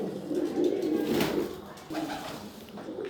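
A breeder pair of pigeons coos at close range, with soft, throaty rolling calls repeating in two bursts and a short pause between them, no talking over them.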